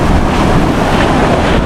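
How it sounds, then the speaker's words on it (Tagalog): Ocean waves and wind on a shoreline in the Philippines, a loud, steady wash of surf noise with heavy wind buffeting the microphone throughout. "ito yung mga alon na yan"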